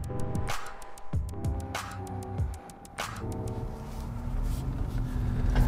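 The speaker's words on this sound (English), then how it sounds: "This is a very short ride in the new Volkswagen Tiguan e-hybrid." A 2021 Volkswagen Tiguan e-hybrid plug-in hybrid with a 13 kWh battery, heard from inside while driving: a steady low hum with a few sharp clicks and thumps, growing slightly louder toward the end.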